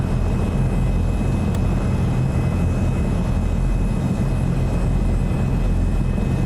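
A Boeing 737 jet in Microsoft Flight Simulator 2024 roars past on a rainy day, a loud, steady broadband engine rumble that holds constant throughout with no voices.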